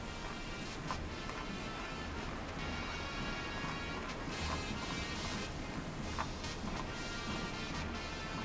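Rain falls steadily across a Pokémon video game area, with sharp cracks and rumbles of thunder breaking through at intervals, moderately loud and without talk.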